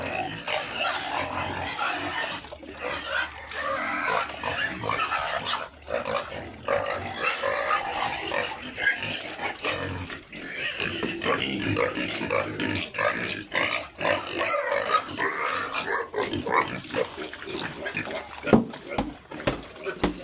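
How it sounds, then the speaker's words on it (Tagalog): Hungry pigs on a farm squeal and grunt almost continuously, a loud, chaotic chorus of close animal cries with a person's voice talking in among them. "sobrang ingay na nila mga kababoy. Kasi gutom na sila mga kababoy"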